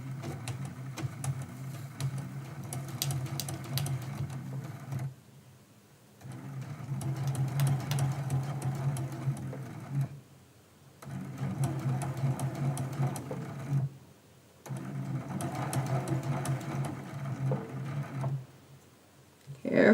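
Sewing machine sewing along the edge of a quilt template, with four even runs of close, humming stitching separated by short silent pauses while the work is turned.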